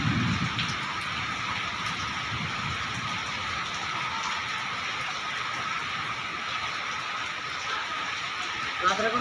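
Rain falls steadily as a soft, even hiss heard from a distance.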